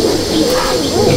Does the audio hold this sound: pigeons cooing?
yes